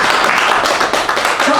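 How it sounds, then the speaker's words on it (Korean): Audience applause at a Korean business lecture on growth and innovation, a short dense burst of clapping filling the room at steady loudness. "박수 한번 더 치겠습니다."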